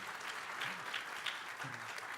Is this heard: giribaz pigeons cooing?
no